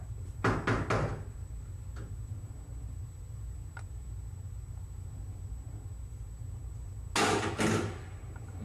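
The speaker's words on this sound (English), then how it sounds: "You just heard the door come unlocked." A jail door is unlocked: sharp metallic clanks and a bang near the start, then a couple of faint ticks, and another pair of heavy clunks near the end, over a steady low hum of the building.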